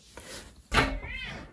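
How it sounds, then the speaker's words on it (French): A cat lets out a single loud meow near the microphone, drawn out and falling away, preceded by a faint softer sound in a quiet room. "Arrête de miauler."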